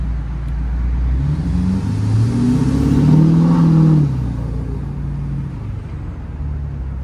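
A Ford F250 diesel pickup, with its exhaust brake on, drives and revs: a deep, loud engine rumble climbs in pitch through an acceleration, peaks, then settles back to a steady cruising drone, heard from inside the cab.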